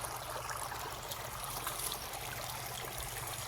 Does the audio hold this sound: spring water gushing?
yes